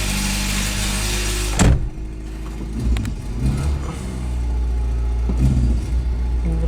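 A 1986 Peugeot 305 GTX with 138,000 miles, sitting in neutral, cranks and fires with a sharp burst, then settles into a steady low idle rumble close by.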